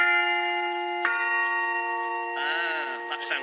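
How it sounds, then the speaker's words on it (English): A church bell struck to check its tuning, one clear ringing strike with a long sustained hum that lingers, then a second wavering, warbling tone layered over the ring near the end. "The bell has to be in tune with itself and in tune with all its neighbours as well."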